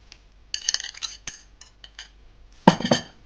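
A spoon clinks and scrapes against a bowl in short bursts, stirring grated zucchini with eggs and salt, with a louder clatter near the end.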